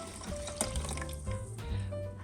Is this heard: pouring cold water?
yes